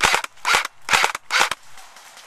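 Airsoft guns fire in short rapid bursts during an outdoor airsoft game, with four sharp, loud clusters of cracking shots close by, then quiet.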